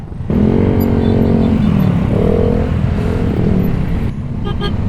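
Heavy road traffic on a motorbike ride in the Philippines, with close engine rumble and wind, a long car horn honk followed by shorter toots, loud and near without talk.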